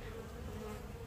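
A steady, dense drone of many honeybees buzzing around their hives in honey season, faint but unbroken, with no voices.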